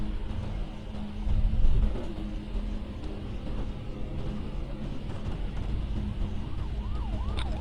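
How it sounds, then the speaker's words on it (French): A fire engine siren wails faintly in the distance, its rising and falling tone emerging late amid dense, rumbling city chaos and engine noise. "Les pompiers."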